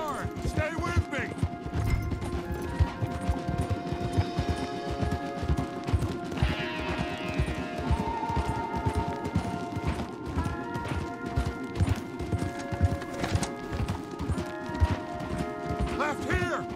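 Rapid rhythmic hoofbeats of galloping horses, loud and continuous, with game sound effects and music in the background, from the video game Red Dead Redemption 2.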